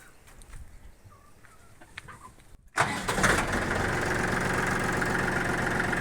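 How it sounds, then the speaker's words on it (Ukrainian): A tractor engine cranks and catches, settling into a steady loud idle after a few quiet seconds with a rooster crowing faintly in the background. "відкриваємо цей кран і заводимо трактор"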